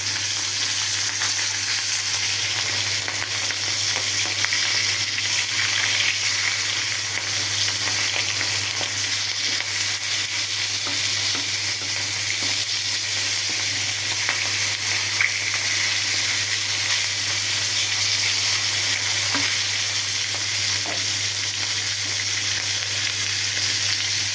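Hilsa fish sizzling steadily as it fries in a pan for a kacchu mukhi dish, with occasional soft stirring; a continuous close hiss and crackle with no talking.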